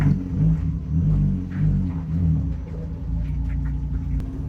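Car driving along a road with a steady low engine rumble and road drone, gently swelling and easing, fairly close and continuous with no talking.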